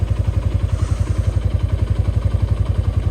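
A Honda Tiger motorcycle engine runs close by with a fast, even, throbbing low pulse that stays steady throughout.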